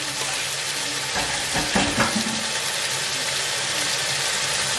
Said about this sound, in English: So I'm gonna fry this.